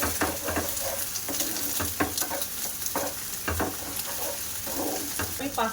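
Beaten egg sizzles in a hot pan for spicy pasta, with scraping stirs and soft clinks of the utensil over a steady fry, close and moderately loud.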